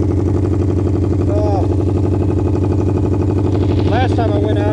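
A 1974 Honda CL200 motorcycle engine idling just after being choked, a steady, close, throbbing putter with someone talking over it now and then.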